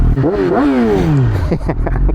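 Motorcycle engine revving close by, a couple of quick rising and falling pitch sweeps followed by rapid choppy pulses as the throttle is blipped.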